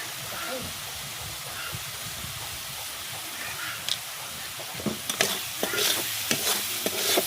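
Fish pieces in a curry with cumin powder are turned and fried in a pan, a steady loud sizzle with clattering spoon-scraping strokes that build toward the end.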